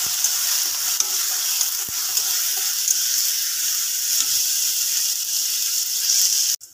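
Tomato and turmeric being stirred into a frying Mughlai paratha filling, a steady close sizzle with faint scraping and stirring clicks, ending abruptly.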